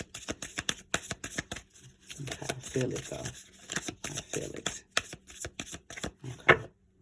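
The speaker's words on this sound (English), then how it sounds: "we have to get that shuffle right" Tarot cards being shuffled by hand in a rapid run of crisp riffling taps and slaps, close and fairly loud, with a person speaking briefly in the middle.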